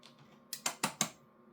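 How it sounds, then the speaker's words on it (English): Four sharp keystrokes on a computer keyboard, evenly spaced and close, at an amateur radio station while an automatic antenna tuner is engaged; faint clicks precede them in a quiet room. "I'm going to request automatic tuning by holding the control key on the keyboard and"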